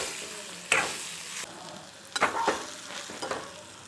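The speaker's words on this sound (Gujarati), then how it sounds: "જે અહીંયા ઢોકળાના કટિંગ કરી લીધું છે એ એડ કરશું તો આપણે મિક્સ કરી લઈશું" Cut pieces of bottle gourd dhokla tossed into a sugared tempering in a pan, a soft sizzle broken by several sharp scraping and clattering stirs in short bursts.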